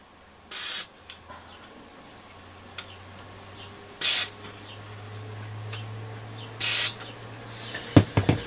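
A spray nozzle squirts into the electrolytic capacitors of a Hacker Super Sovereign RP75 transistor radio in three short, sharp hissing bursts spaced a few seconds apart, with faint clicks near the end.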